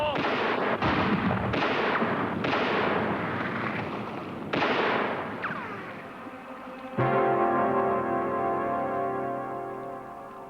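Gunfire in the video game L'Odyssée du Capitaine Blood 2: several loud, sharp shots in an irregular sequence, each ringing out and decaying, followed by a louder blast with a long resonant tail.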